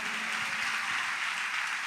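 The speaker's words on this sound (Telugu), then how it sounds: "హుషారుగా కొట్టండి చప్పట్లు" A church service congregation claps hands together, a steady, dense wash of applause with no clear gaps.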